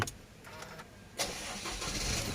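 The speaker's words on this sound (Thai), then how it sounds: "อ่ะนี่เสียงเครื่องยนต์ติดสบายๆนะครับ" Isuzu D-Max 1.9 pickup, a 2018 Z Prestige automatic, started by push button: quiet cabin ambience, a brief crank, then the engine catches and settles into a steady, fairly soft idle hum.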